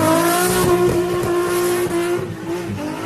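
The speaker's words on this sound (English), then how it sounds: "Here's a little more drift action for you." Cars drifting with engines held at high, steady revs, a loud droning tonal roar with small pitch dips and faint tyre scrub underneath, no talking.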